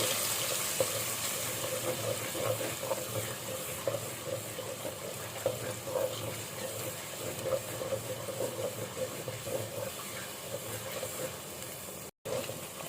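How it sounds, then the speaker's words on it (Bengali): Ground spice paste sautéing in a pan: a continuous, dense sizzle with fine crackling texture, steady and fairly loud throughout, briefly cutting out near the end. "মশলাটা ভালো করে কষিয়ে নিব"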